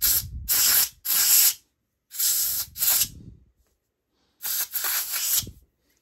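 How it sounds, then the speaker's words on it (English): Compressed air sprayed in short bursts into the cooling fans of an ASUS Zephyrus G15 2021 gaming laptop: three loud, close hissing blasts separated by silent gaps, each about a second long with a slight rattle underneath. "I just will use some compressed air."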